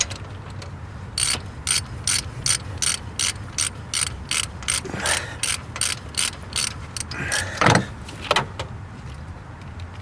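Rapid, evenly spaced clicking of a socket wrench ratchet working an alternator bolt on a car or truck, a steady run of about twenty sharp close strokes that turns slightly irregular near the end, with no talk.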